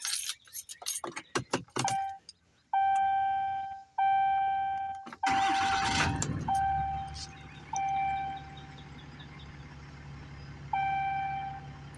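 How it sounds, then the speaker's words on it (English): Keys jangle, then a 2018 Ram 3500 pickup truck engine cranks, catches and settles into a steady idle, with a few chimes sounding over the running motor. "Let me turn the truck on"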